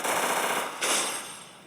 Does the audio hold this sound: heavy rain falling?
no